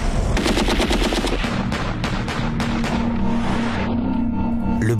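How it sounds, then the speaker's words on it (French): A Kalashnikov rifle fires without a silencer inside an airport, loud rapid automatic bursts cracking out in quick succession, then fading into echoing reverberation and rumbling background noise. "L'Israélien l'achève alors avec sa Kalachnikov, qui, elle, n'est pas pourvue d'un silencieux."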